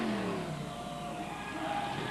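A Samson monster truck at a 2006 Monsters of Destruction event in Chillicothe, Ohio, revs its engine as it heads for the finish, a steady mid-pitched roar heard from a distance, fairly faint and continuous.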